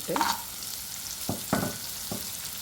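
Spices sizzling in hot oil while tempering for butter paneer curry, a soft continuous fry hiss broken by a few sharp stirring clatters and pops, close by and moderately quiet, with no talking.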